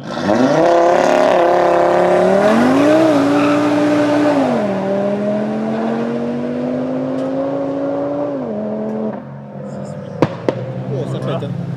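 An Audi S3 roars past at close range with a loud, rising and falling exhaust note that shifts through gears, then fades, followed by a few sharp pops and crackles near the end.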